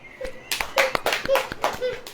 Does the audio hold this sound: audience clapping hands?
yes